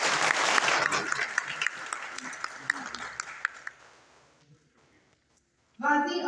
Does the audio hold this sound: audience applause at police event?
yes